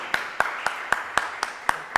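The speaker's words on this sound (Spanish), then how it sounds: "Fuerte aplauso para el maestro Jesús Morales." At a book presentation for Jesús D. Morales, about eight sharp, evenly spaced claps ring out in a steady rhythm, close and crisp, with no voices over them.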